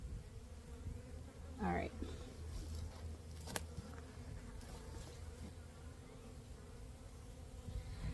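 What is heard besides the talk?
honey bees buzzing in a hive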